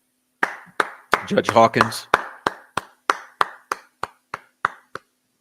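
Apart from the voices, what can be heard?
speaker clapping hands in applause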